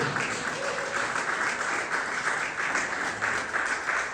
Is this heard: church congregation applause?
yes